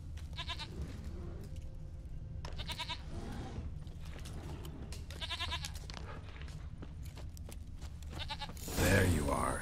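Several goat bleats from The Witcher 3: Wild Hunt, vibrating and nasal, come in separate bursts over steady game ambience, with a louder clatter near the end.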